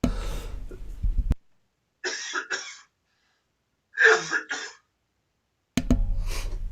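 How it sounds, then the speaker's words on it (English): Two separate coughing bursts in a quiet gap between stretches of someone talking, close and fairly loud. "Sorry, I had a cough there."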